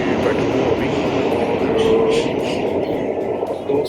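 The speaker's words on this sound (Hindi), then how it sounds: "मेट्रो में बैठा हूँ अभी" Riding aboard a New York subway train: a dense, continuous rumble of wheels and carriage noise fills every moment, steady and loud from start to finish.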